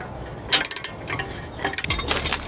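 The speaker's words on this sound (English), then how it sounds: "So now I'm gonna go ahead and use a 21 millimeter wrench and a T40 Torx bit here to counter hold." A 21 mm wrench and a T40 Torx bit work loose a tight front tension strut bolt on a BMW F30 335i: close metallic ratcheting clicks and clinks in short bursts, then a brief grinding turn, with no talking.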